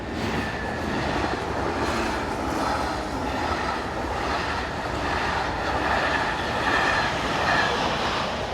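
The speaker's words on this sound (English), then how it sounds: "a bit more locomotive variety in the shape of Class 18, number 1867, at the rear of this service heading for Brussels" A Class 18 locomotive, number 1867, at the rear of a train bound for Brussels rolls steadily past with a continuous rumble of wheels and rail noise, its sound holding at an even level and fairly close throughout.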